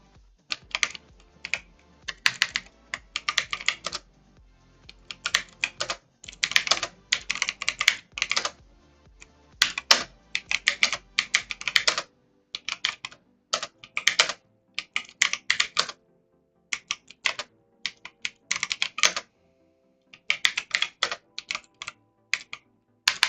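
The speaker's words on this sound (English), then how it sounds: "Now this keyboard is working fine" Fingers type on a computer keyboard during a story-writing session, with close, crisp bursts of rapid key clicks broken by short pauses, carrying on steadily for over twenty seconds with no talking.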